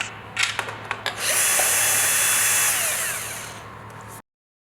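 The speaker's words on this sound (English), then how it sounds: "Disassemble 4 screws on the handle control box." A power drill unscrews four screws from the handle control box of an EPT20PPD electric pallet truck, starting with short bursts and then a steady, loud, high-pitched whir that runs for about three seconds before cutting off abruptly.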